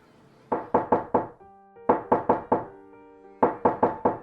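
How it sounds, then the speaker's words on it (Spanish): Three clear bursts of rapid knocking on a door, four or five sharp raps each, separated by short pauses, close and distinct against a quiet background. "Atiendes a la puerta, que suena despertándote de tu autocompasión."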